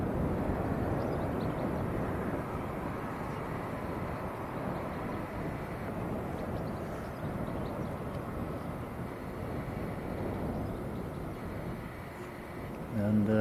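An airplane climbs away after takeoff from Manchester Airport, a broad, steady jet roar holding loud throughout with someone commenting over it.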